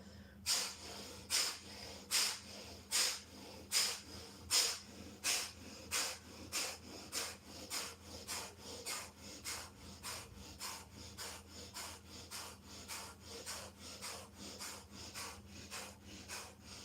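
Kapalbhati pranayama breathing: sharp, forceful nasal exhalations repeat in an even rhythm, about twenty close bursts that grow a little softer over time, with no talking.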